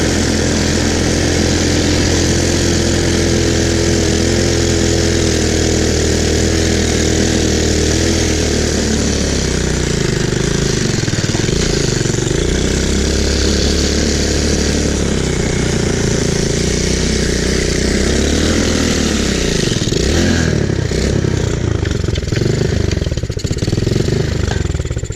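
An abandoned four-wheeler ATV engine runs loud and steady, a rough throbbing drone with shifting revs that dip and rise near the end, close by and with no talk over it.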